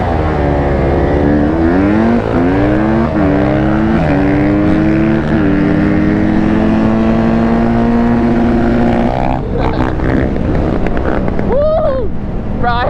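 A Honda quad engine roars close by, its pitch climbing through repeated revs before bouncing off the rev limiter, with other off-road bikes buzzing around and a brief shout near the end.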